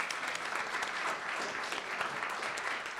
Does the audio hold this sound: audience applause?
yes